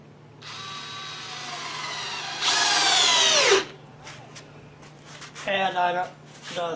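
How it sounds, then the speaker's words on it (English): A power drill drives screws up from below into a wooden brace on a silkscreen shop build, two loud sustained whirring bursts, the second louder and winding down, followed by a short ratcheting buzz as a voice speaks nearby. "now I'm just going to put some screws from the bottom"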